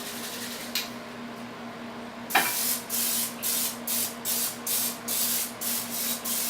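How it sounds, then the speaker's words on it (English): Cooking spray hisses onto a baking dish being greased for a crustless quiche, first one longer burst, then a steady run of about eight short, even puffs, close and fairly quiet. "we're going to go ahead and use some spray here"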